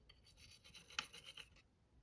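A toothbrush scrubs flux liquid onto a jewellery join in quick, soft bristly strokes, one sharper scrape near the middle, close and faint with no talking.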